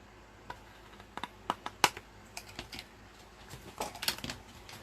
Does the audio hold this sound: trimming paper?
yes